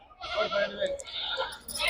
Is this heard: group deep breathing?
no